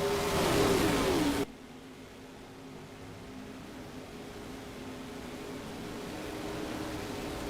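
Race car engines roar loudly, then drop to a steadier droning whine as the cars pull out of the pits in NASCAR Racing 2003, a continuous sustained engine sound with no talk.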